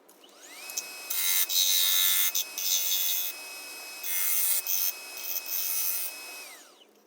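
A scraper shears across the outside of a spinning butternut wood bowl on a lathe, making bursts of rasping, hissing cuts over the steady whine of the lathe motor, which winds up at the start and down at the end.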